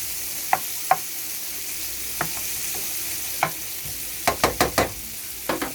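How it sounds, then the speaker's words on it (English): Onions sautéing in a pan for breakfast burritos give off a steady soft sizzle, broken by scattered sharp clinks and scrapes of a utensil stirring, with a quick cluster of taps near the end. "I'm going to saute these until the onions start to be a little translucent"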